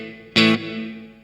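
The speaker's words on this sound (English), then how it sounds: "then we're moving on to a plate reverb" Electric guitar chord through the plate reverb of a Blackstar HT-Effects pedal, one sharp strummed hit followed by a short, bright sustaining tail that decays smoothly.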